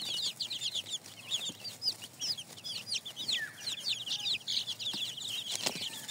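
Young desi chicken chicks kept in a brooding area in winter, many rapid high cheeping peeps overlapping continuously at close range, with occasional soft clucks and light shuffling.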